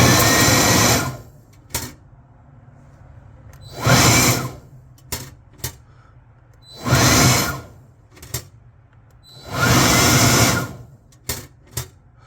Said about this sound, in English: I'm going to pull the trigger on this blower.